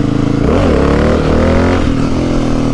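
A motorcycle engine revs loudly and close during a wheelie, its pitch rising and falling in surges over a continuous roar.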